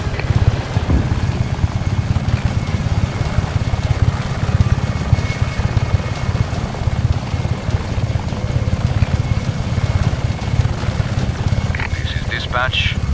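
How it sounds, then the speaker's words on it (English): Helicopters in Just Cause 3 thump steadily with a fast, loud rotor chop that runs through the whole stretch, while voices talk over the din. "Choppers are inbound."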